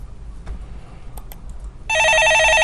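A telephone rings loudly and steadily in a studio during a Korean stock-market call-in broadcast, a bright electronic trill that suddenly starts after a quiet stretch of faint room noise.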